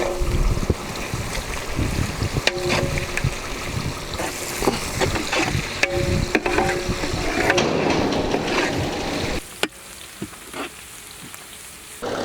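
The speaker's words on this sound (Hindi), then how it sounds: "इमीडिएटली हम लोग इसमें स्लाइस्ड ऑनियंस भी डालेंगे।" Sliced onions tipped into hot oil with mustard seeds, a loud hissing sizzle with popping and crackling that fades as it settles, close up, ending with a few clinks of a utensil.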